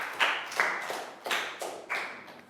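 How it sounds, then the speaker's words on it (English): A small group of children in a classroom claps in a few uneven, echoing bursts, close and moderately loud, with no talking. "Big round of applause for Prel"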